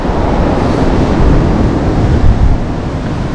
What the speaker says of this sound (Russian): сразу крупные волны пошли